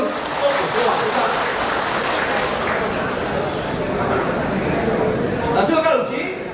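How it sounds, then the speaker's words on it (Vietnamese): Dense, steady applause from a large audience at a Vietnamese military division's 70th anniversary ceremony, filling the whole stretch at an even loudness with no speech breaking through. "Đề nghị các đồng chí cho một tràng vỗ tay để mừng quân của sư đoàn chúng ta"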